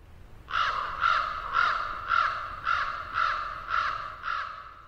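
A series of seven harsh, croaking caws from a raven, evenly spaced and fairly close, with quiet background between calls.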